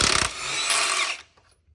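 Power tool zipping 7/8 nuts off the upper control arm of a 2014–2018 GM crew cab truck, one close, loud burst of ratcheting whir about a second long that stops abruptly.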